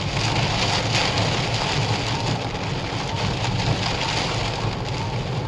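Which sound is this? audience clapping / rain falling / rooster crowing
rain falling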